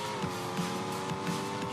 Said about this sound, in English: So we can do some drifting